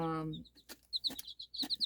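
Bantam hens cluck in short, close bursts, with high chirping peeps scattered among them and a brief low call at the start.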